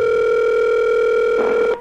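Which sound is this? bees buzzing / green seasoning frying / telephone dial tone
telephone dial tone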